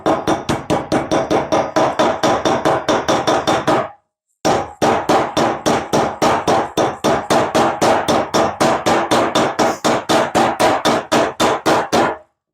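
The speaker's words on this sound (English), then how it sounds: "I'm just gently tapping around the outside and working it in." Rapid, steady hammer taps on a bike wheel bearing being worked into place on a metal table, loud and sharp with a ringing metallic edge, in a long even run broken by one short pause.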